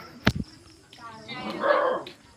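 A dog gives one sharp, close bark followed by a brief second yip, amid outdoor noise and a mid-range rumble that swells toward the end.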